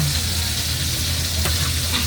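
Steady, dense sizzling of galunggong (round scad fish) frying in hot oil, close and continuous with no talk.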